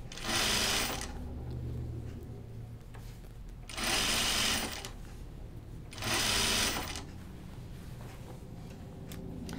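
A sewing machine stitching fabric in three loud, evenly spaced bursts of rapid whirring, each about a second long, separated by quieter pauses.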